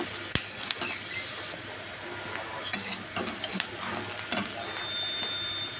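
Pointed gourd peels stirred in a pan, soft sizzling under several sharp scraping and clacking strokes of a utensil against the metal, close by, with no talking.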